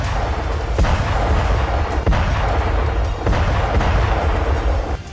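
Heavy tank guns firing in the Israel–Hamas war, a dense run of deep booms and blasts rolling one after another across the whole stretch, loud and continuous with no talking.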